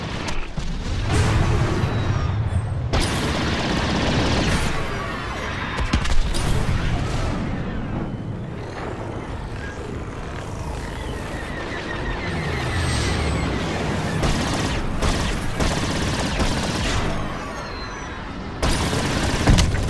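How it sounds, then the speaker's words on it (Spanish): Blaster fire and booms from a space battle in Star Wars Battlefront II, a dense, continuous barrage of shots and explosions with voices speaking over the loud combat. "Están disparando al deflector frontal."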